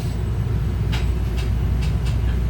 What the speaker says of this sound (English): Okay, so the train is actually now leaving Newark Penn Station.